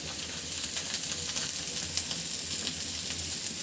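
Onions frying in hot oil for a Bangladeshi fish bharta give a steady, close hiss and crackle that runs unbroken and alone, with faint stirring.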